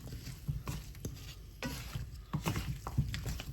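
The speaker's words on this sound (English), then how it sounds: "Give it a nice mix" Potatoes and carrots tossed with seasoning by hand in a bowl, a soft, continuous squelching and rustling with irregular light taps, close and moderately loud.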